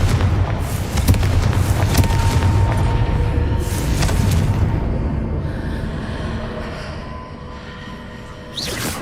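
Confringo blast curse in a Harry Potter video game: a heavy, sustained booming explosion with rumbling low end, loud and close, tailing off toward the end before a fresh burst.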